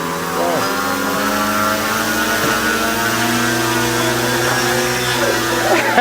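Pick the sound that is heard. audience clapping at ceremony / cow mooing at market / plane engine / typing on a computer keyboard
plane engine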